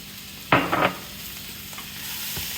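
Crawfish tails and green onions hit a pan of cooked vegetables for a homemade Louisiana crawfish dish, giving a couple of short scraping stirs and a soft sizzle, fairly quiet, with no voices.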